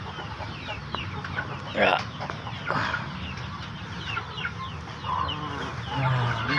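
A hen clucks softly in a straw-lined coop nest before laying, intermittent low clucks and fowl murmurs up close, with a brief spoken word in the background.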